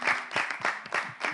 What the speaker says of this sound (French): que j'aimerais qu'on applaudisse quand même.